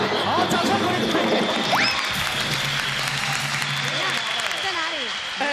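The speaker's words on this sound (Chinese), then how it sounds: "好，掌声欢迎！" Audience applause in a television variety studio, a dense, sustained round of clapping with cheering, laughter and excited voices mixed in throughout.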